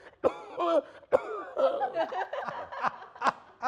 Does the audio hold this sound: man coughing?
yes